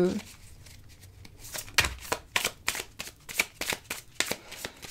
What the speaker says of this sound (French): je mélange les cartes assez souvent